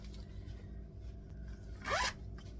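A zip pocket on the inside of a Vera Bradley bag is unzipped in one quick, close rasp, rising briefly above a steady low background hum.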